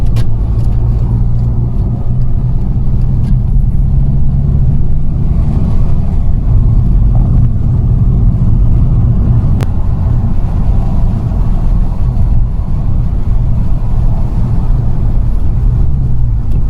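Volkswagen Golf 5 GTI engine on a drive, a steady low rumble with road noise that holds at an even level throughout, close and continuous with no talk over it.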